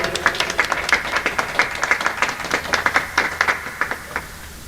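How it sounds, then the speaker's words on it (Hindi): Scattered hand clapping from an audience at a gathering, a modest crowd's applause of uneven claps, fairly close and steady throughout. "आप लोग तालियां बजाते रहें।"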